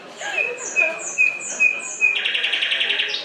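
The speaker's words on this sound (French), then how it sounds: "François, les oiseaux là, ils sont en train de nous critiquer. Attends, ils parlent." Birds outdoors give a run of loud, close chirps and squawks, first in spaced bursts, then as a fast repeated trill, with no talking.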